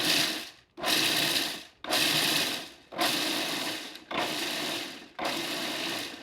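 A food processor chops kale for pesto in six even, whirring pulses about a second long each. Brief gaps separate the pulses, and the grinding sound is close and steady with no talking.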